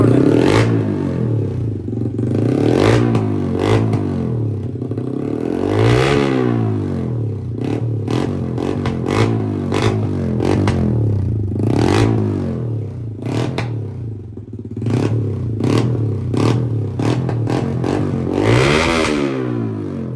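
A Yamaha MT-15 motorcycle fitted with a modified full-system exhaust revs loudly and close up in repeated throttle blips, each rising and falling in pitch, with no talking.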